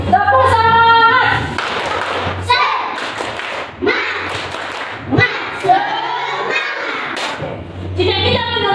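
A class of children in an Indonesian primary school performs a rhythmic clapping chant, loud patterned hand claps and thumps in bursts, mixed with children's voices and a teacher speaking.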